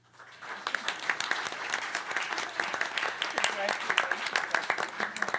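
Applause from an audience at a school Board of Education meeting congratulating graduating seniors, steady dense clapping that swells quickly and holds for several seconds without a voice over it.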